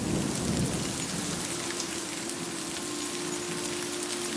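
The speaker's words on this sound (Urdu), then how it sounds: "تیز بارش، بادلوں کی کڑک" Heavy rain pours steadily with rumbling thunder in a stormy downpour, a dense continuous wash of sound with a deep thunder roll near the start.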